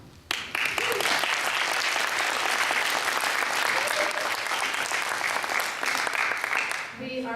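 An audience applauds a choir at a Four Seasons concert in Bexley, Ohio, breaking into dense, sustained clapping that starts abruptly and fills the room for several seconds before tapering off at the end.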